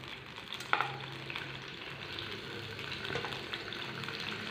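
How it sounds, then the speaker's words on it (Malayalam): Tomatoes frying in a pan give a steady, close sizzle with a few sharp stirring clicks near the start, no voices over the cooking. "ഇനി എടുത്തിട്ട് നമുക്ക് ഈ തക്കാളി കൂടി ഒന്ന് മൂപ്പിച്ചെടുക്കാം."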